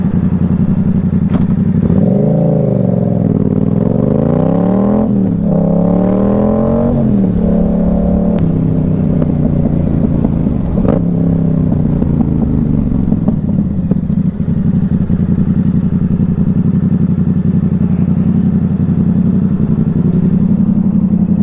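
A Yamaha R7 sport motorcycle is ridden close and loud, its engine rising and falling through several revving gear changes before settling into a steady drone with wind noise.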